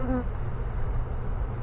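A steady, dense buzz of many honey bees from a swarm close by, a continuous low drone with no talking, as the bees are bumped into a hive box.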